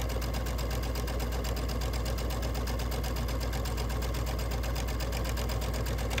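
A sewing machine stitching down the side of a fabric strap handle for a bunny basket, a fast, even mechanical chatter running steadily throughout at close range with no talking.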